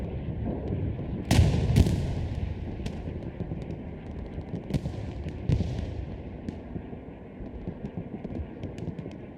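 Artillery shells landing in the WWII shooter game Hell Let Loose, a few sharp booming impacts early on and then scattered lighter blasts and cracks over a steady low hum, at mid distance and fairly loud.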